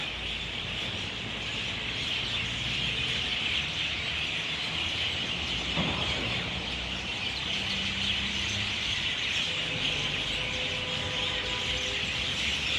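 Birds chirp constantly from the trees overhead in a park in Kokand, Uzbekistan, a dense unbroken chorus over low city rumble, with a brief louder knock near the middle and faint tonal hums later.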